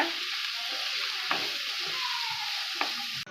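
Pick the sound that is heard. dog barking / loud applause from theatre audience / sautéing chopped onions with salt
sautéing chopped onions with salt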